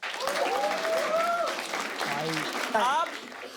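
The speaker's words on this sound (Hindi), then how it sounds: "इस बात पे तालियां हो जाए फिर" A studio audience at a Hindi quiz-style reaction show claps in continuous applause, while music and voices with sliding melodic tones play over it, fading slightly at the end.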